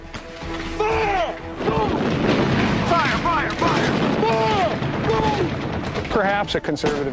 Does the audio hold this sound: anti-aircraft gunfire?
yes